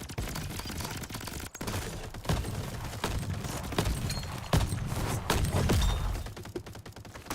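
Video-game gunshots in a fantasy shooter, a dense run of loud repeated shots and impacts with thuds, fairly continuous with a few sharper hits standing out, no talk over it.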